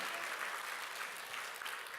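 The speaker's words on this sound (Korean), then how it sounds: "하나님의 은혜인 걸 믿고 감사의 박수" A church congregation applauds during a worship service, producing a steady wash of many hands clapping at moderate loudness for a couple of seconds, with no voices over it.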